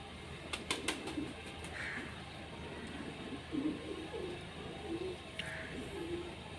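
Pigeons coo softly at close range, with a young Ferozpuri pigeon chick among them, in a low repeated murmur of calls over steady background hiss, broken by a couple of faint bird chirps.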